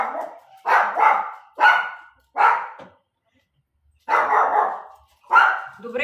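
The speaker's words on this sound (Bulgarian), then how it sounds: "Комшиите ни имат огромно куче" A huge dog barking in loud, close bursts, clusters of deep woofs separated by short pauses, then another run of barks after a brief silence.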